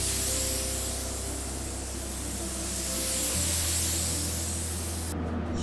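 A spray gun lays the final base coat of paint on a BMW 440i in a steady, loud, close hiss that runs unbroken throughout, with no talking.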